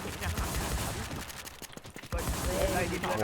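Rapid gunfire bursts in a video game as several players shoot from atop a building, dense continuous crackle with sharper shots near the end, heard under players talking.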